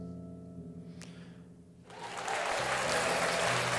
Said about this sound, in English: That applause was for Jack the Dripper